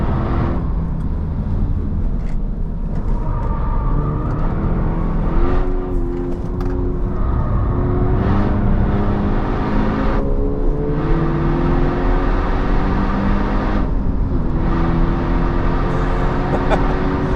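A Skoda Octavia vRS drives hard around the Nürburgring, its engine droning loud and steady from inside the cabin with rising and falling revs and constant road and wind roar.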